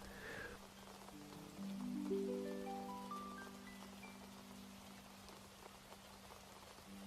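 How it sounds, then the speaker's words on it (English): Steady rain patters on the diamond-paned windows of a forest cottage, a soft continuous hiss with a low sustained tone and rising chime-like notes layered over it near the start, with no voices. "The rain began as Snow White was lighting the evening candles in her hidden cottage, each droplet a gentle kiss against the diamond-paned windows"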